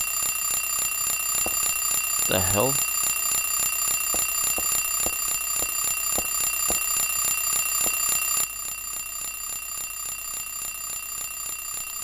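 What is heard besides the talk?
alarm clock ringing in Silent Hill 3 video game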